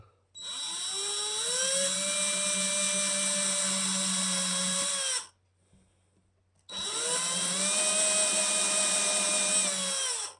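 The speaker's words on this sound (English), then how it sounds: "So I'll use 5/64 drill bit. So you don't have to drill in very far" A power drill with a 5/64 bit whines into a Telecaster-style guitar body in two long bursts, each spinning up to a steady high-pitched whir, separated by a brief pause, close and alone.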